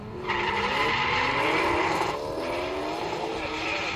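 A BMW at a Bimmerparty 2014 quarter-mile drag event sends out a loud, rising exhaust roar with climbing revs, close and continuous, then eases slightly before surging on.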